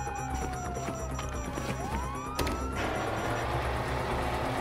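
A police siren in Grand Theft Auto 5 wails in long falling and rising sweeps, carried over a steady bed of engine and traffic noise that swells slightly partway through.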